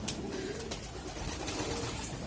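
Young racing pigeons coo softly in a loft, low murmuring calls close by over a steady background hiss.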